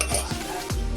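Poha with milk is stirred in a pan, giving close, repeated scraping and clinking strokes of a spoon against metal over a faint sizzle, in a quick rhythm.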